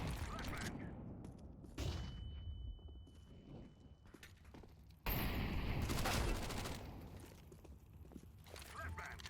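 Gunfire rattles in a first-person shooter video game, with loud bursts of rapid shots, a sharp jump in intensity midway, and busy game noise between volleys.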